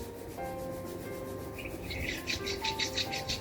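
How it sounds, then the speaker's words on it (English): Palms rubbed briskly together during a yoga session, a close, steady rasping swish that quickens into rhythmic strokes toward the end, with no voice. "Rub your palms."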